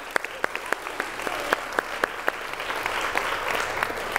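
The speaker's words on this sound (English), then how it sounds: "Okay, round of applause." A group in a workshop claps steadily for a few seconds, a wash of applause punctuated by a few sharper, louder individual claps close by, with little talk.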